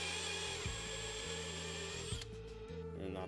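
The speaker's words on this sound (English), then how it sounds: "So we'll go ahead and drill this out and then we should be good." A power drill whines steadily as it bores through a metal part on a turbo truck's coolant setup, pitch dipping briefly under load before it winds down and restarts near the end.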